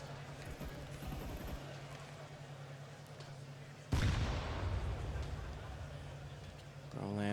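A grenade explodes in CS:GO, a sharp sudden blast partway through that decays into a rumbling tail, heard under steady commentator talk with a low game hum beneath.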